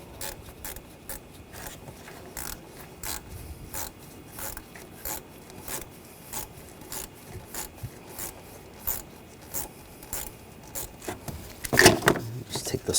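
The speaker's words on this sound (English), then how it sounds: "Using a 7mm socket, loosen up this clamp right here." A 7mm socket working loose a hose clamp on a 2013-2022 Buick Encore engine makes repeated short ratcheting clicks in quick bursts, close by, growing louder toward the end amid faint background noise.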